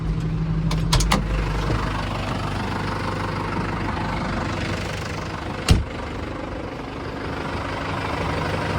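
A Case JX75E tractor engine idles steadily at close range, a low continuous rumble, with a couple of brief clanks near the start and a sharp knock midway.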